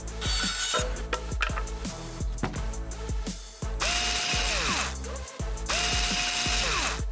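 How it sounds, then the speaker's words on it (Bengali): A power drill drives a few screws in short whirring bursts, with ratcheting clicks and rising motor whines between them, close and loud, with no talk. "আমাদের শুধু কয়েকটা স্ক্রু আটকাতে হবে।"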